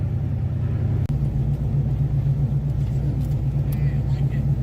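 A 1964 Oldsmobile's engine rumbles steadily at low pitch throughout, a continuous droning ride with a brief click partway through.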